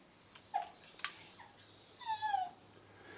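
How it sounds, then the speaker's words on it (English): Dog whimpering to be let into a room, a few high, thin whines and yips close by, rising and falling in pitch over quiet background, no talking. "My dog wants to come in here."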